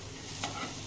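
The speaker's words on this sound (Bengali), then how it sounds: "এবার আমি অমলেটটা দিয়ে দিয়েছি ফ্রাই প্যানের ওপর।" An omelette frying in a frying pan for a home breakfast gives a short, steady sizzle with a brief scrape partway through.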